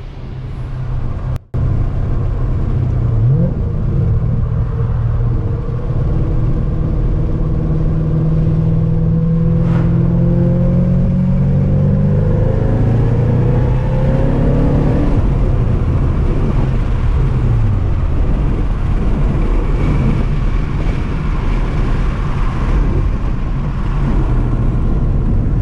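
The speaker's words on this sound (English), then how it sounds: "I do have some driving video of the car." A 2010 Shelby GT500 with its supercharger boost fixed drives under load, loud engine and whirring rising in pitch through gears as it accelerates, heard from inside the car with a brief click early on.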